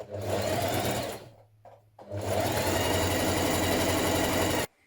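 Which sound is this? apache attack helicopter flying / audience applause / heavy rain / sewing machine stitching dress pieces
sewing machine stitching dress pieces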